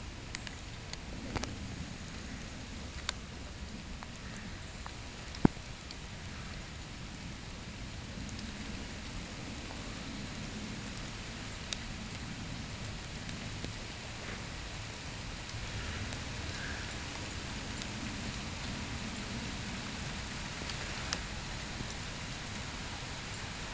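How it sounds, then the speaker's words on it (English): Rain starting to fall makes a steady, even patter throughout, with occasional sharper individual drops landing nearby. "we gotta get out here, it's starting to rain"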